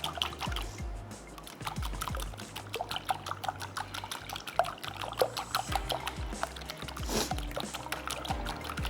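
Four eggs for a vegetable omelette are beaten briskly in a bowl, a fast steady patter of light clicks and wet slaps, close and continuous, with no talking.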